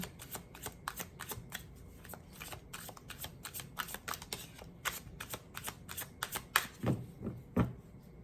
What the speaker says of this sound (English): I will be splitting the deck